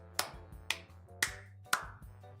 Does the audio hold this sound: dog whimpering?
no